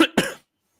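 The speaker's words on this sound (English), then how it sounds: "to not cough into the microphone" A single short cough lands close to the microphone, followed by silence.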